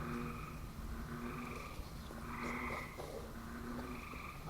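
Frogs croak at a campsite during rain, repeated rhythmic calls overlapping at moderate distance against a steady background hiss, with no one speaking.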